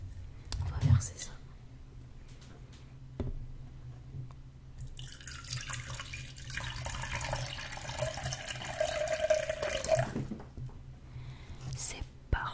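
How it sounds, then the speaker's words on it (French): Water is poured into a measuring container to the 200 ml mark, a gurgling splashing stream that swells in the middle and stops abruptly, with soft whispered French talk before and during. "Alors l'eau a été versée."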